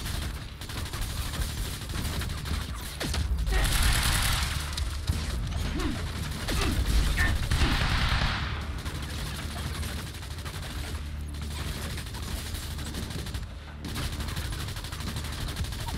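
Sustained, loud gunfire from the Quantum Break video game, dense bursts and fusillades that barely let up across the whole stretch, with heavy low booms underneath.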